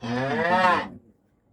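A cow moos loudly and close by in one long, rising bellow lasting about a second, then stops abruptly into near silence.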